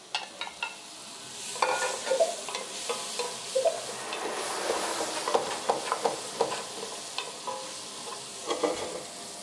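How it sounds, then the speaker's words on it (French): Butter sizzles with shallots in a pan, a steady crackling fry broken by frequent scraping stirs, close and clear with no talk over it. "On entend le beurre chante."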